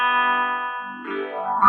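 Electric guitar played through a phaser pedal, a sustained chord with a sweeping, modulating tone that shifts partway through and ends on a new note, loud and alone.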